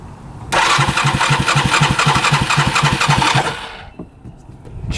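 A used 4x4 UTV engine cranks and catches, then runs loud and steady with a rapid, even chugging pulse for about three seconds before dropping away, close to the listener with no talk.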